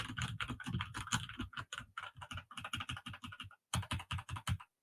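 Rapid, close clacking of keys on a mechanical gaming keyboard with a springy, twangy ring to each press, a quick irregular burst of strokes with one short pause before a final run.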